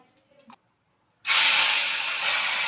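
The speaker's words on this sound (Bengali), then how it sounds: "তো বরলি মাছগুলো এখন আমি ভেজে নিই।" Borali fish dropped into hot oil, a sudden loud, steady sizzling hiss that starts after a brief quiet stretch with a faint voice and continues strongly to the end.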